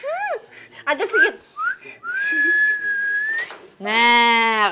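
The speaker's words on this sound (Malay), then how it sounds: "Oke, bersiul, Daryl siul lah." A person whistles a series of short rising and sliding notes, then one long sustained tone, followed by a buzzy harmonic-rich note, loud and close with no talking.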